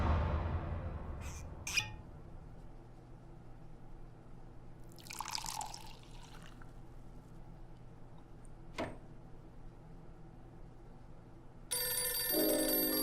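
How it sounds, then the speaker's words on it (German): Telephone in the detective game Blues & Bullets rings with a bright electronic trill near the end, after quiet ambience broken by a few faint clinks and drips. "Oh nein, das Telefon."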